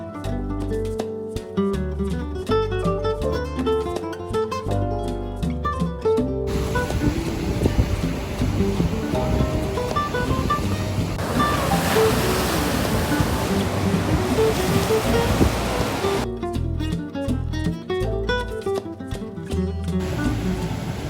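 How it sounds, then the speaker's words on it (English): Ocean surf off San Juan, Puerto Rico, roars as a constant broad wash. Heavy wind buffets and distorts the microphone, and background music plays over the opening and closing seconds. "I wish I could let you guys hear all the sounds from the ocean, but the wind was just blowing way too much and distorting the sound."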